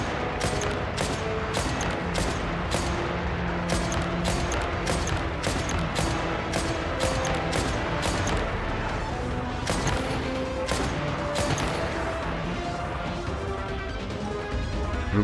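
Video game gunfire in sniper mode: a steady barrage of sharp shots and crashing impacts, dense and continuous, with many distinct cracks over busy battle noise.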